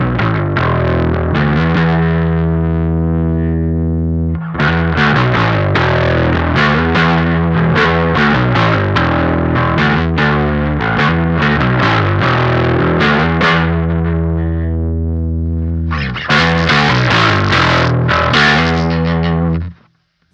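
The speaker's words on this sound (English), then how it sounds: "Let's go ahead and hear how increasing the presence sounds." Electric guitar through an O.C.E. Lineman pedal with the presence control raised, loud strummed chords and riffs in steady bursts with a couple of brief pauses, bright and slightly gritty, no talking.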